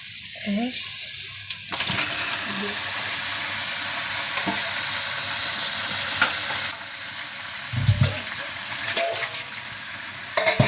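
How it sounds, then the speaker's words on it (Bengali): Chicken pieces frying hard in oily spiced gravy, a loud, steady sizzle that holds throughout, with a few scraping stirs and clinks of a spoon against the pan close by. "এবার আমি মাংসটা দিয়ে ভালো করে কষে নেব।"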